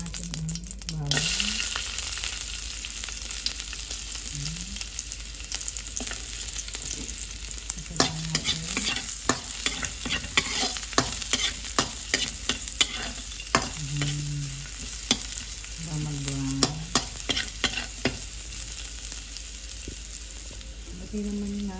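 Garlic sautéing in a little oil for pancit miki guisado, a steady close sizzle broken by repeated sharp scrapes and clinks of a spatula stirring in the pan, with a faint voice at times.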